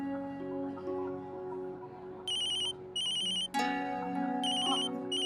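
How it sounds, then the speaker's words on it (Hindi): A phone ringtone plays in short repeated bursts over a background tune, bright and fairly loud, several rings in a row. "टेलर का फोन है, मैं अभी आती हूँ।"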